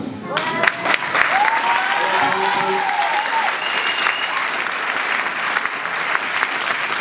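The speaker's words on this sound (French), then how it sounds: "On fait une ovation à... Dorine" Audience applause at the Music'Art St-Lunaire 2014 event, an ovation for Dorine: steady, dense clapping from a crowd that holds loud throughout, with a few sharper claps early and faint cheering mixed in.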